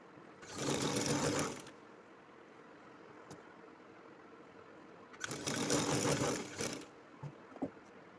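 Two close, even bursts of a sewing machine stitching a flared princess-cut kurti panel, separated by several seconds of quiet room tone with a few faint clicks of handling.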